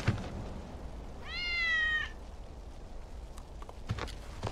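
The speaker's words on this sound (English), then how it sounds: "That's Wedge's cat." A cat in the Final Fantasy 7 Remake video game gives a single clear, rising-falling meow lasting under a second, mid-level and close, set against faint game ambience and soft footsteps.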